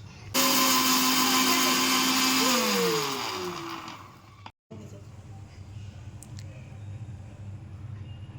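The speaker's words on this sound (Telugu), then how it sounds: "ఇదైతే మిక్సీ పట్టుకుందాం" A household mixer grinder whirs loudly while grinding sugar for a homemade cake, its motor pitch sliding down before the grinding cuts out, leaving a quiet room.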